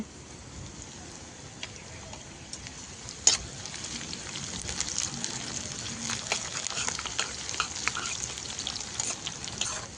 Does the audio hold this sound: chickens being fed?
no